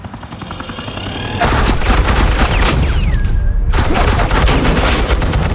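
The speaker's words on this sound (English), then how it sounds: "This is Agent Quinn, suppressing fire." Sustained suppressing gunfire in the video game Batman: The Enemy Within, a loud, dense rattle of rapid shots that kicks in after a quieter start and runs continuously with only a brief dip.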